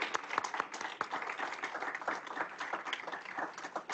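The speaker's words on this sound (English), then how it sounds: "could we have one more round of applause for all of the panelists and the speakers who were here today?" An audience gives a round of applause for panelists and speakers at the close of a keynote panel event, a dense, even clatter of many hands held at moderate level throughout.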